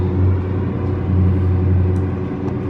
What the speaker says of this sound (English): God, the car is so loud.